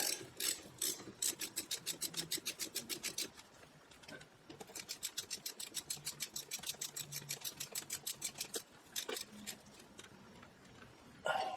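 A hand ratchet tightens the brake caliper guide pins on an Audi A4 during a front brake job, with quick, even clicking runs separated by a brief pause, close and clear with no talking.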